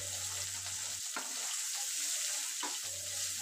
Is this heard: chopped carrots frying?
yes